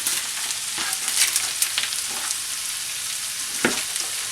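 Chopped yellow onion sizzling steadily in a hot pan for fajita-style chicken quesadillas, a continuous close crackle with a few brief stirring clatters and no talk.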